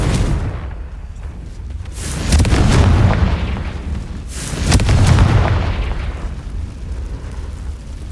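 Repeated fire spell explosions from the video game Hogwarts Legacy, two heavy booming blasts with rumbling tails about two seconds apart, loud and alone without talk.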